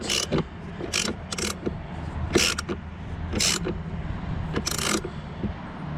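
A wrench tightens the battery terminal nut on a 2009 Volvo S80, giving a series of close, sharp metallic ratcheting clicks in irregular bursts over a low background hum.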